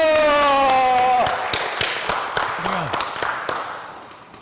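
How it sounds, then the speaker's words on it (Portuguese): An audience applauds at a Baptist theology seminar, with a short burst of scattered clapping that thins out into a few separate claps, following a voice over a PA. "vamos aplaudir ele, Ramos Donatinho!"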